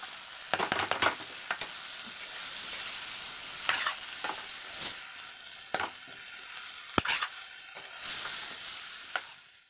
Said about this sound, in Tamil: காளானை சேர்த்து காளானையும் வந்து இதோட நல்லா மிக்ஸ் பண்ணிக்கிட்டுக்கலாம்